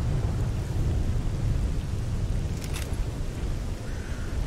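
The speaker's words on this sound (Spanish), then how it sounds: "A lo mejor lloviendo todavía." Steady rain with rumbling thunder in the STALKER: Anomaly game, a constant hiss over deep low rolling that fills the whole stretch, with no voices.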